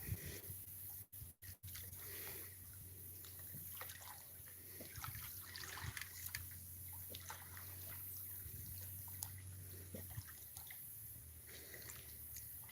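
Water trickles and drips gently by the waterside, a faint continuous babble with small splashes and a low steady hum underneath, heard alone without talk.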